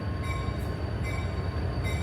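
Riding aboard a train on the New Hope line behind a 1963 General Motors EMD diesel locomotive, a steady low rumble of rolling wheels and car noise continues with faint squeals.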